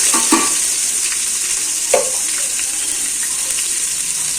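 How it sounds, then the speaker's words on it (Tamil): Onions sizzling and crackling in hot oil as the base for chicken biryani, a steady close hiss with a few sharper pops and stirring scrapes. "இப்போ வந்து வெங்காயம் போட்டுட்டோம். நல்லா வதங்கட்டுங்க."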